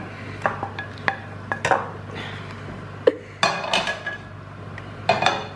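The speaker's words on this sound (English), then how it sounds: "We're gonna chuck it into this little pot of it" Fried, juicy mince tipped into a small kitchen pot, giving a run of close metallic clinks, scrapes and utensil knocks in irregular bursts, with a few sharper taps and a louder clatter near the end.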